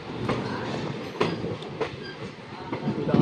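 Bilaspur–Raipur passenger train running on rails in Chhattisgarh, India, a rumbling rattle of carriages with a few rhythmic clacks of wheels over rail joints, heard close by and alone.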